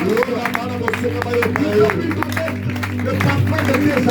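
Church congregation at an Easter celebration acclaiming and clapping, rhythmic claps and shouts mixed with crowd voices over a steady low hum, continuous and fairly loud.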